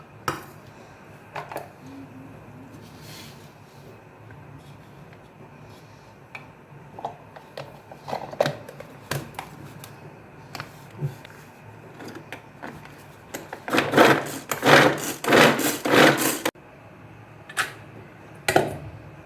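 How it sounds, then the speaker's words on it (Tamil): Rapid bursts of crisp chopping clatter from a vegetable cutter working through onion, faint at first then a dense, louder run of cuts near the end. "இந்த மாதிரி வெஜிடபிள் கட்டரில் போட்டு இந்த வெங்காயத்தை பொடி பொடியாக நல்லா பொடியாக சன்னமாக பண்ணிக்கணும்"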